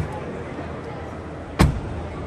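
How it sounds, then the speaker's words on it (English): A Tesla Model Y Performance door shuts with a single solid, muffled thud, close by and loud against a quiet cabin background hum. "Nice door closure,"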